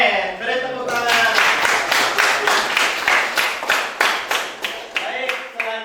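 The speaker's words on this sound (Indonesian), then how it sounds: "Oke, beri tepuk tangan." An audience at an Islamic religious education teacher-training class in Bandung breaks into steady, lively applause that fills the room for several seconds after a brief moment of talk.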